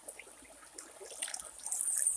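Quiet trickling and splashing of water scooped by hand, soft at first and growing a bit louder toward the end, with no voices.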